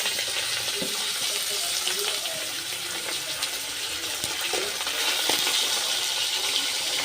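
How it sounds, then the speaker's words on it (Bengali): Khoira fish fry in white oil in a wok, giving a dense, loud, continuous sizzle broken by scattered spatters and light metallic clinks throughout. "মাছের এক পিঠ এখন ভাজা হয়ে গেছে, আমি আর এক পিঠ একটু দিই"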